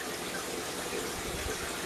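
Water trickles and sprays steadily from a squirt bottle into a pop-up pet water dish, a continuous close hiss with no voices.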